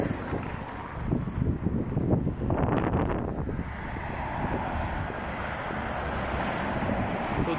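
Gusty wind outdoors on an overcast day beside the Polevskoy highway near Yekaterinburg, heard as a continuous rumbling roar that buffets the microphone and swells and eases throughout.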